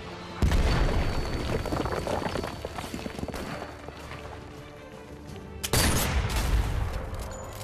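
Gunfire and booming blasts in the Sniper Elite VR video game, sounding as dense, loud continuous battle noise with a sharp burst near the start and another near the end, no talking over it.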